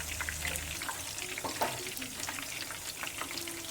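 Mutton koftas frying in oil, a steady close crackle and sizzle with a few soft stirring knocks, no voices.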